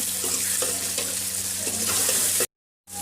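Tomatoes sizzle and fry in a pan with ginger garlic paste as they are stirred, a steady close hiss with soft scraping strokes, ending abruptly in silence before the sound briefly returns.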